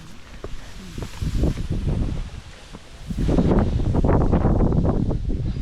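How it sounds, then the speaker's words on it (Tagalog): Strong wind buffeting the microphone on the summit of Mt. Batulao, a steady roar that surges louder in the second half, with faint rustling underneath. "Hangin."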